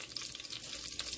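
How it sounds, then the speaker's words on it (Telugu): Green chilies sizzle in hot oil in a pan for khichdi, a soft, close, continuous crackle over a brief moment with no voice. "ఇప్పుడు దీంట్లో నేను ఫస్ట్ పచ్చిమిర్చి వేసుకుంటున్నాను."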